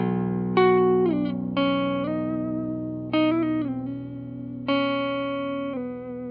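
A Squier Carbonita baritone Telecaster plays low sustained notes and chords through a dry, clean signal, each struck and left ringing, a handful of attacks with slides between pitches.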